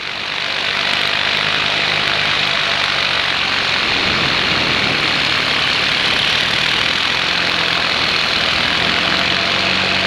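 A paramotor engine in flight drones loudly and steadily throughout as the aircraft makes a flyby overhead, holding a constant propeller roar without breaks.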